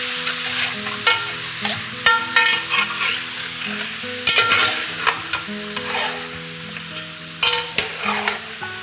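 Mutton fries in a pot for korma, sizzling steadily while a utensil repeatedly scrapes and stirs through the meat, producing close, rhythmic clanks over the continuous crackle.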